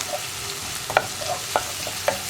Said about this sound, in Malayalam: സവോള ഒന്ന് കളർ ചേഞ്ച് ആയി വരുന്നത് വരെ നമ്മളൊന്ന് ഇളക്കി കൊടുത്തുകൊണ്ടിരിക്കുക